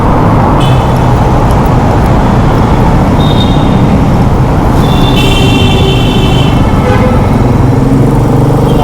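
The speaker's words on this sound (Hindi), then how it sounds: "ट्रैफिक आज हमें पीछा नहीं छोड़ रहा।" Steady, loud road and engine roar from a Royal Enfield Meteor 350 motorbike riding along a highway just after exiting a six-lane tunnel, with surrounding traffic and occasional passing vehicles and horn-like tones.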